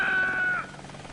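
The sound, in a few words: helicopter in the video game Air Conflicts: Vietnam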